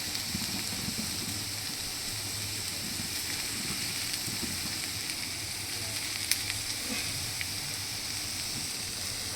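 Onions with salt frying gently in a pan, a soft, even hiss of sizzling oil holding steady throughout with a faint clink near the end.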